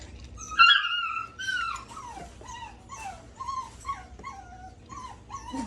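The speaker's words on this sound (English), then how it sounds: "That is one demanding puppy." A puppy whimpers and whines in a series of high, falling cries, close by and moderately quiet, repeating about every second with no talk.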